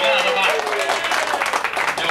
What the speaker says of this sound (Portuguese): uma salva de palmas pro casal aqui